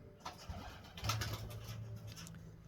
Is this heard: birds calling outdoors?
yes